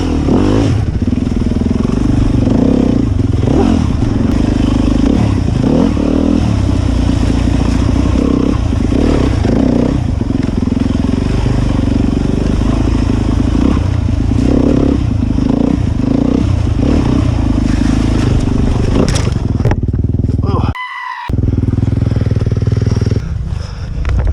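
A motorcycle engine drones loudly and continuously on a trail ride, with revs surging now and then from a clutch that can no longer be feathered, clattering mechanical noise, and a brief cut-out near the end.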